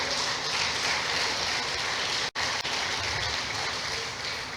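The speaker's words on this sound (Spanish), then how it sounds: "Denle un aplauso al Señor" A church congregation applauds in a sustained, dense wash of clapping that breaks off for a split second midway, then continues steadily.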